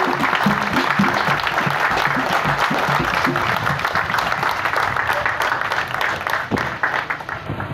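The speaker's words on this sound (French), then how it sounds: "veuillez vous lever pour répondre par des acclamations, des applaudissements" Congregation in a Methodist church standing to applaud at a catechist's installation service, loud sustained clapping filling the whole stretch with crowd murmur and a few raised voices mixed in.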